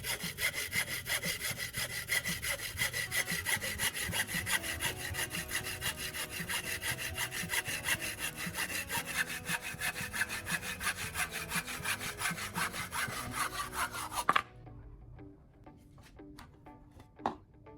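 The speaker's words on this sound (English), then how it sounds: "Using a hacksaw, I carefully cut the marked section of the wooden dowel." Hacksaw cutting through a wooden dowel clamped in a vise: a steady, rapid back-and-forth rasp of sawing that runs continuously and close up, ending abruptly as the piece drops off, followed by a few faint knocks.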